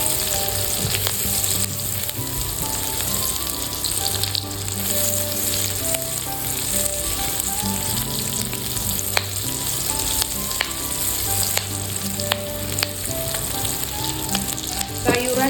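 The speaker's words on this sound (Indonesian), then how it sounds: "Kemudian masukkan bawang putih 2 siung, tumis hingga wangi." Two cloves of garlic sautéing in hot oil for a Japanese chicken katsu curry, a steady close sizzle and crackle running throughout with faint stirring scrapes and no voices.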